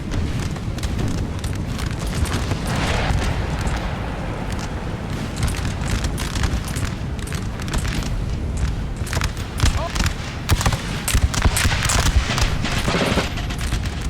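Artillery fire and explosions on a Napoleonic-era battlefield in Napoleon: Total War, a dense continuous rumble of booms and crackling volleys under steady talk.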